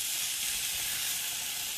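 Sausage links sizzle steadily in a pan with olive oil, a continuous close hiss that holds evenly throughout with no talking.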